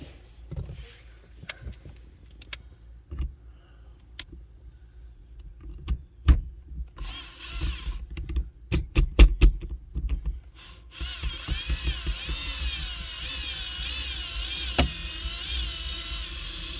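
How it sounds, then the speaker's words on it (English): A cordless drill in low first gear drives an Equalizer tool at slow speed, pulling with torque; a few scattered clicks and knocks come first, then a steady close whirring motor whose pitch wavers as it strains. "I start out nice and slow with my drill in gear 1 here, so that it has more torque to pull"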